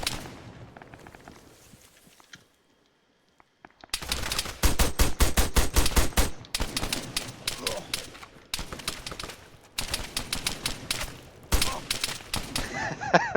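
Repeated bursts of automatic gunfire in Arma, hunting through bushes, arriving in several loud rapid volleys separated by short pauses, following a quieter opening with soft talk and a brief near-silence.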